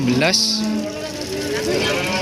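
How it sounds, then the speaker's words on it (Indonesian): Javanese and Limousin cattle low in a pen, one drawn-out moo with a falling pitch and a second longer call, close and loud over a busy background. "Ini sapi Jawa sama limusin"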